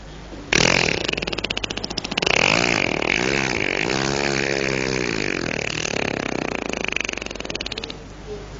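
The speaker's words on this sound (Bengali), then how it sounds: "সেই ইঞ্জিনের চালক ওটাকে স্টার্ট দিচ্ছিল। শুনুন সেই ইঞ্জিনের শব্দটি।" A boat engine sputters and then catches, settling into a loud, steady mechanical chugging that runs for several seconds before cutting out.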